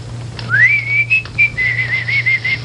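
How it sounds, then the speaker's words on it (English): A person whistles a rising note that then holds and warbles in a few short bursts, clear and close over a low background hum. "you whistle for him"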